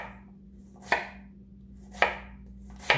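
A chef's knife dicing an onion on a board makes three sharp, spaced chops about a second apart over a low steady hum.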